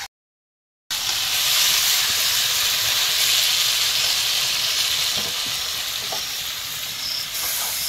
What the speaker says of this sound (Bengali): আলু আর কাঁচা লঙ্কা দিয়ে ধরে ধরে কষিয়ে নিচ্ছি